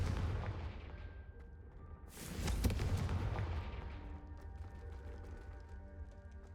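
The Confringo blasting spell explodes in the video game Hogwarts Legacy: a single loud fiery burst after a moment of low rumble, then a long roaring, crackling decay that fades slowly.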